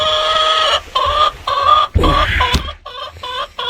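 Hens clucking close by in repeated bursts, their harmonic calls rising and falling with short pauses, a brief thump or rustle midway, with no talk.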